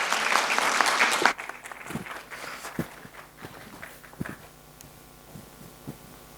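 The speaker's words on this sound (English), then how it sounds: "Let's welcome her with a big round of applause." A debate competition audience applauds to welcome a speaker, with dense clapping for about a second before it thins into scattered claps and footsteps as she walks up.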